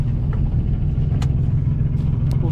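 A car heads out on its first lap of a race track, its engine a steady, close, low rumble with slight surges and a few faint clicks and rattles, with no voices.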